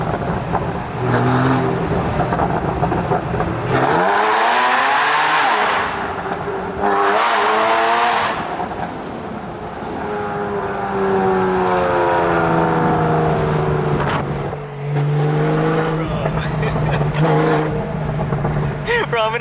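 A supercar in sport mode accelerates hard, its loud engine note climbing and dropping through gear changes, heard from close inside with heavy wind rush while people talk over it.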